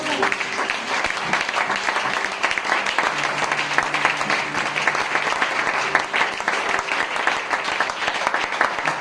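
A congregation at a Sunday church service applauding loudly and continuously, dense rapid clapping from many hands held at an even level throughout, with some faint voices mixed in.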